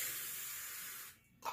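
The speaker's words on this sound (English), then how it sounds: "Spray that down, spray the backside of the sandpaper" Water sprayed from a bottle onto the back of sandpaper gives a steady close hiss, breaking off briefly before a short final spritz.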